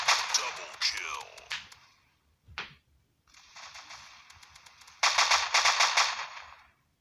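AK5 fire in the Maskgun FPS shooter, fast rattling automatic bursts in several runs with short gaps and one sharp single crack between them, loud and close.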